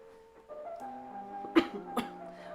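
Two short, sharp coughs from allergies burst out close by over a faint tonal background hum.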